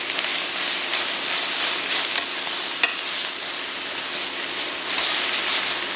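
Spinach and kale sizzle steadily in a hot pan while wilting, a dense close hiss with faint occasional stirring clicks, no talking.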